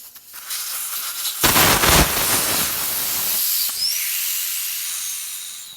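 Air rushes out of a tire valve stem after the core is pulled with a remover tool during wheel reconditioning, a loud steady hiss of several seconds that fades toward the end, with no talking.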